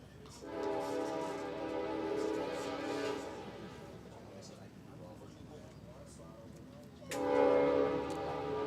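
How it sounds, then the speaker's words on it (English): A passing train sounds its horn in long, loud blasts beside an American Legion baseball game. The rumble fills the background and a second horn blast comes near the end while an announcer talks. "That's the noon train, just a little behind."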